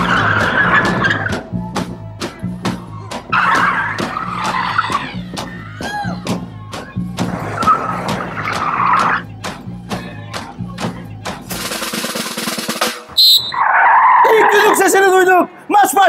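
Ford Courier commercial vans skidding during a car football match, with repeated tire squeals and revving engines as a voice commentates over them, ending in a burst of crowd noise and shouting.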